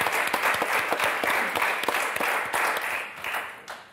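A studio audience applauds on the French TV word game show Motus, a steady, full round of clapping with sharp individual claps throughout, slowly easing toward the end.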